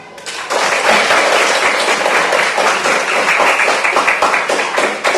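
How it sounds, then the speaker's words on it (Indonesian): A classroom of students claps for a classmate after a group presentation during an academic supervision coaching session; dense, steady group clapping rises sharply and sustains at a fairly loud level throughout. "Ya, jadi tepuk tangan dulu untuk temannya."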